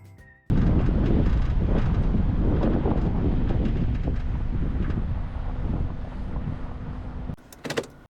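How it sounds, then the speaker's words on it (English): Heavy wind buffets a microphone at a highway rest stop on the road toward Globe, Arizona, a loud, continuous low roar that starts abruptly and then cuts off near the end. "the wind is picking up pretty heavy right now"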